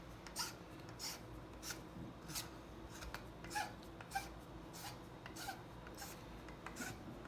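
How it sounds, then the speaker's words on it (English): A hand file rasps against the edge of a plastic sprinkler pipe in a series of short, quiet strokes, fairly regular and faint against a soft background hiss. "once you get it to this position, then you dress it with the file."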